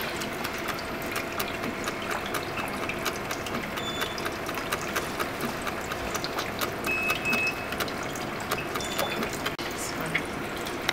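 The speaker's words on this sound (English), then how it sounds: "So we'll start the reactor" A spinning cloth disc reactor turning at 254 RPM with liquid fed at 5 mL per second gives a steady mechanical whir and trickle of flowing water, with faint clicks and ticks running evenly throughout.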